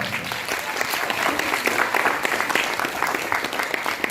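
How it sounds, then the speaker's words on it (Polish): Audience applause at a school culture gala, dense steady clapping from a full hall sustained for several seconds, fairly close and without any voices over it. "Ogromne brawa."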